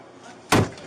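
A bedroom door being opened during a police hostage standoff gives a single sharp, close clack-thud with a short rattling tail, after near silence.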